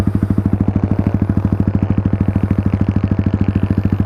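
Yamaha MT-15 with a Yoshimura Alpha open-pipe muffler idling close up, a deep, bassy exhaust pulsing in a fast, steady, even rhythm.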